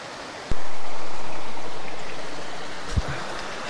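The Siagne river flowing where the Siagnole joins it, a steady close rushing wash of water with a soft knock or two and no talk.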